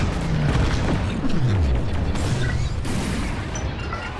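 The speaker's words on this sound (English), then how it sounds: "Roll A or D so that the thermal regulators are below you, then drop your bombs." Proton bombs dropped and exploding in the Star Wars: Squadrons space-combat game, a loud continuous rumbling boom with layered blasts and falling whooshes lasting several seconds.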